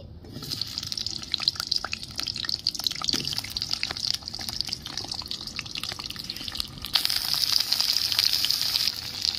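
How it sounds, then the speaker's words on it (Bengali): Cut pointed gourd pieces frying in hot oil in a wok give a steady, close sizzle with spitting crackles throughout, growing a little louder near the end. "কড়াইয়ের তেল গরম হয়ে গেছে, কেটে রাখা পটল আমি ভেজে নিচ্ছি।"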